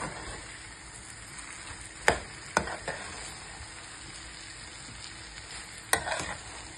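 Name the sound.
egg sizzling as it is stirred in a frying pan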